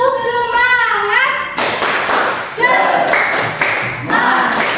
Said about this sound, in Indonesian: Silakan tepuk semangat.